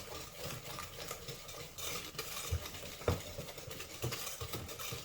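Cookie dough for soft, chewy chocolate chip cookies being whisked in a bowl, a steady soft scraping and stirring with a few sharper clinks of the whisk against the bowl, close and moderately quiet.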